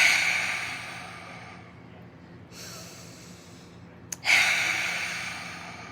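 A forceful lion's-breath exhale during a guided breathing exercise, a loud breathy rush of air that fades, followed after a short pause by a second sharp exhale, close to the microphone.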